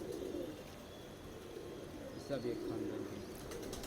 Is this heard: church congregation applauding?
no